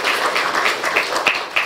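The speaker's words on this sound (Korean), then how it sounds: "박수하겠습니다." Church congregation applauding after an exhortation at a Korean Holiness church service, a short patter of hand claps, moderately loud and even, fading at the end.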